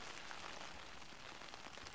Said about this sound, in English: Oh, it's a lot of rain.